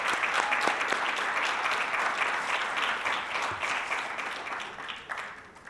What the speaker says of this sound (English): I credit Wendy Pearson with another round of applause.